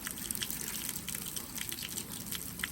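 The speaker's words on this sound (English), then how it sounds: "that just could be water in the pipes" Water rushing and trickling through household pipes, a faint, steady hiss with small gurgling spatters, continuous throughout without talk.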